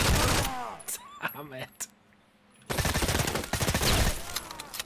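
Gunfire in the Hired Ops online shooter game comes as loud, dense bursts of rapid shots at the start and again in the second half, with someone speaking briefly in the quieter middle gap.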